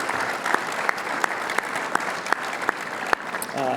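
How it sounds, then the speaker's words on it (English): Audience at a golf awards luncheon claps in a steady round of applause, a crowd of hands with occasional sharper nearby claps punctuating the even wash. "please join me in one more round of applause to Tess Gowdy, Jazz, all the staff of the Junior Tour"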